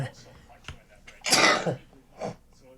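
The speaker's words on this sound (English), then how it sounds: "Excuse me, I just sneezed." A single loud sneeze bursts out near the microphone in a radio studio setting, broad and breathy, framed by brief quieter sounds before and after.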